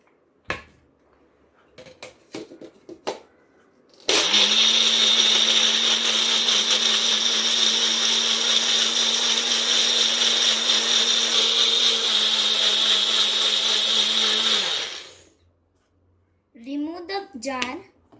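An electric blender whirs steadily for about eleven seconds, mixing tambli ingredients for a traditional Konkani recipe, after a few clicks from the lid and jar being set, then winds down to quiet and more handling clatter.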